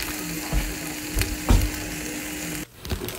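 Eggs with roasted seaweed fry in a pan, a steady close sizzle with occasional scraping and clunks of the pan, cutting out briefly near the end before resuming, no talk.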